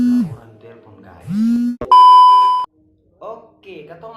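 An incoming call sets off a phone's electronic ring tone during an Indonesian review of a small, cheap microphone: one steady, bright beep lasting under a second, loud and close, with someone talking before and after it.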